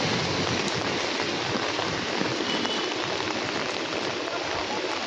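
Steady heavy rain pours down continuously outdoors in a street setting, a dense, even hiss with no breaks or talking.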